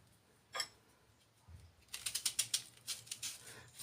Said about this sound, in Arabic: غادي ندير شويه ديال البصله غادي نقطعها